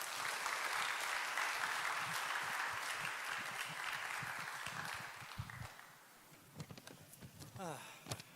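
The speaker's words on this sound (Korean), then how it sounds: "우리 김명구 목사님 우리 큰 박수로 모시도록 하겠습니다" Church youth-group audience gives a loud, sustained round of applause welcoming a pastor on stage, the dense clapping fading after about five seconds into scattered claps, a voice and a rising whistle.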